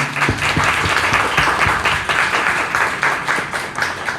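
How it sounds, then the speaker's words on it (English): Audience applause for a panelist at a business panel on accessing capital, dense steady clapping filling the room with a few sharper individual claps standing out, sustained at full volume throughout. "give a round of applause for this amazing panelist."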